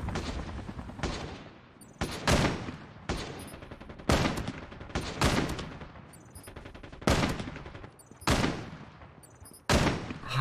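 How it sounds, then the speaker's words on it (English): Call of Duty Mobile gunfire, repeated loud bursts of automatic fire and single shots in irregular clusters about every second or two, close and punchy against a quieter background. "I'm hearing so many gunfights going on right now"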